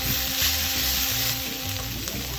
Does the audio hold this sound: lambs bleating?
no